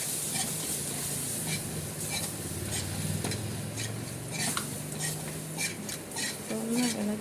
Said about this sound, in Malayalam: ഇപ്പോൾ നമുക്കിതൊന്ന് ഇളക്കി കൊടുക്കാം.